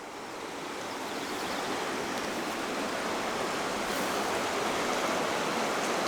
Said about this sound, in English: This is the Jarbidge River.